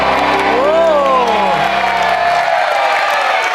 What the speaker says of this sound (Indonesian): Boleh tepuk tangan untuk kedua tim kita.